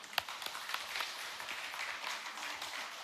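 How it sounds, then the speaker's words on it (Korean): Church congregation clapping during a Sunday sermon, a dense, steady patter of many hands heard at a moderate distance, with a few sharper individual claps standing out near the start. "박수 한번 쳐주세요."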